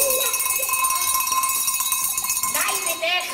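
A bell rings with a bright, sustained metallic tone and ringing overtones in a 1981 German production, steady and fairly loud throughout with a brief voice near the end.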